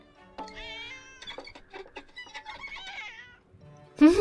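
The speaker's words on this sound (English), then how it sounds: "It's a special sound effect used exclusively to portray Wagahai the cat getting caught up in Shom's violin" A cartoon cat yowls and screeches as it gets caught in a violin in The Great Ace Attorney, a string of wavering, pitch-bending meows and scraping bowed notes, ending in a loud, sharp squeal.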